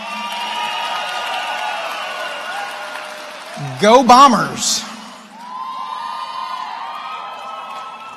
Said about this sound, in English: Can we give her some more applause?